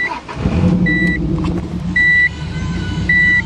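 A Subaru Legacy's 2.5-liter boxer engine idles with a steady, close low rumble. Short electronic beeps sound three times over it.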